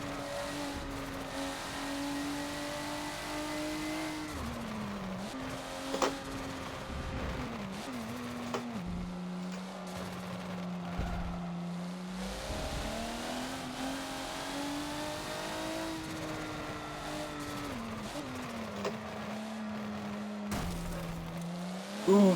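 A race car engine in Forza at the Bathurst circuit revs and accelerates, pitch rising and dropping through gear changes across repeated pulls, a continuous droning engine note at moderate level.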